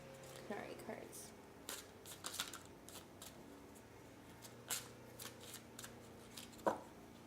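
Oracle cards are shuffled in soft, scattered bursts of riffling and flicking, quiet and close, with short pauses between handfuls and a few sharper snaps.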